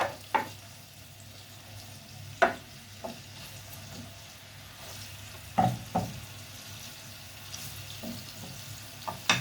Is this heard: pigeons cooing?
no